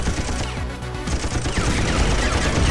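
Rapid gunfire from guns in the side-scrolling shooter Jets'n'Guns Gold, a dense, loud stream of shots with explosions blended under game music, continuous throughout.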